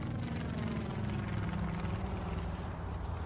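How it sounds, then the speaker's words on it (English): A small aircraft comes in to land at a local island airstrip, its engine giving a steady, continuous drone and roar that stays loud and even throughout, with no talking. "the small aircraft carrying state homicide investigator Randy McFerrin, a state fire investigator, and a crime scene technician touched down at a local airstrip"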